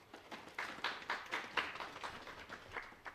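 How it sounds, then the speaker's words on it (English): An audience at a memorial service applauds, steady soft clapping from many hands that swells and rolls on for a few seconds at a modest distance. "Can we give him a hand of applause?"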